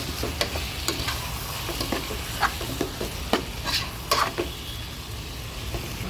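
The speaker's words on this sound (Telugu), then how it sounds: "చిన్నగా తరుచుకున్న టమాటా ముక్కల్ని వేసుకోవాలి వేసుకుని మొత్తం కలుపుకోవాలండి" Chopped tomatoes are stirred into fenugreek leaves frying in a pan, giving a steady soft sizzle with repeated scraping clicks from the spoon against the pan, nearby and with no voices.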